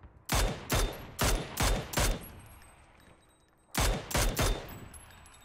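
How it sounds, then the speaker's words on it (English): Gunfire in the shooter game PUBG comes as sharp single shots in two quick volleys, five and then three, each crack ringing out and fading between bursts. "I think that's the guy shooting at me."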